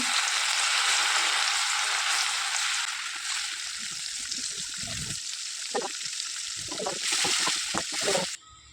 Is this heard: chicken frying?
yes